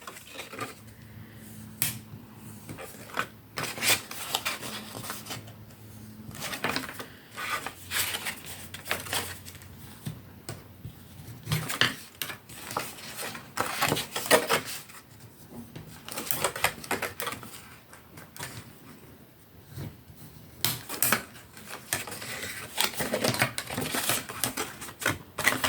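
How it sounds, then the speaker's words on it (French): Paper folds of a Mother's Day pop-up card being creased by hand, giving a run of sharp crisp clicks and snaps of card under a tool, irregular and close, with no talk over them. "on va marquer les plis"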